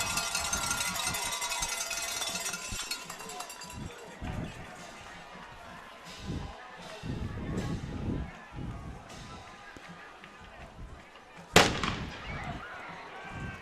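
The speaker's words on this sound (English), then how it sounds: "Buckeye cannon fires across the way." A cannon fires across the field at a high school football game, one sharp, loud boom late in the stretch, preceded by crowd noise and scattered voices and followed by a short fading echo.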